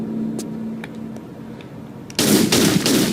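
Gunfire in the Tomb Raider: The Times Exclusive level, with faint clicks and a low hum before a loud, sustained burst of rapid shots at close range that runs to the end.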